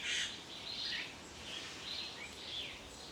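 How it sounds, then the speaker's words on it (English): City birds sing in Johannesburg, a series of bright chirping calls repeating at a gentle, irregular rhythm, faint and somewhat distant over low ambient hum. "I hope you can hear all the bird sounds of Johannesburg"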